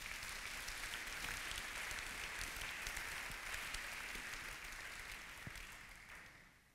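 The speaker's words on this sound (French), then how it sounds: "Acclamons pour la parole de Dieu" A church congregation applauds at a Sunday service, a sustained wash of many hands clapping that stays fairly even before tapering off toward the end, with no talking over it.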